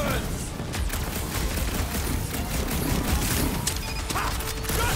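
Gunfire in the Guardians of the Galaxy video game: rapid bursts of shots and impacts crackle continuously over busy combat noise, with voices talking over the action.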